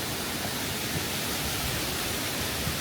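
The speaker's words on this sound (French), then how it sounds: "Je sais pas si vous allez beaucoup m'entendre avec le bruit des cascades." Waterfall cascades near a bridge in Jajce, Bosnia, heard as a loud, constant broadband roar that fills the whole stretch evenly, with no voices above it.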